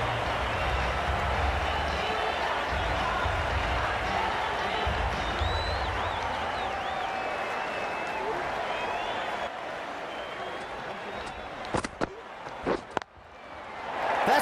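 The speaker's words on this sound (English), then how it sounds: "That's what the crowd have come to see." Crowd at a cricket stadium during a match between DC and CSK, a steady wide roar of cheering that holds throughout, with a few sharp louder bursts near the end.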